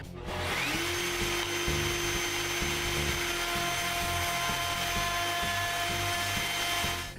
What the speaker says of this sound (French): À la fin, j'arrondis les bords sur la toupie.